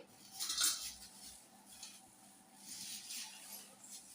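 Ustikaya vegetables are swished and rinsed by hand in a metal vessel, giving soft bursts of sloshing water with light clinks against the sides, fairly faint and close.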